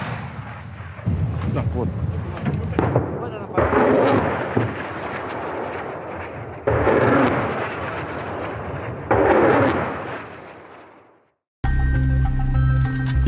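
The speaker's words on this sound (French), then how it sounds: "Donc, ce mortier va se mettre en action." Mortar fire from a position on the front line in Ukraine: several heavy, booming launch blasts with rumbling tails, repeated at intervals over roughly ten seconds, close and loud, with brief voices between shots.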